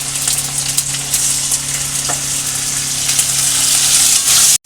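Masala with ginger, splashed with a little water while frying, gives a loud, continuous close-up sizzle and hiss with a few faint stirring scrapes, ending abruptly.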